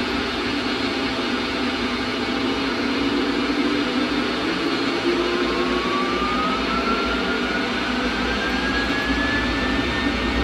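Boeing 767 jet engines roar at high power during the takeoff roll, a loud, steady, broadband rumble with a rising whine, heard inside the cockpit with no talk over it.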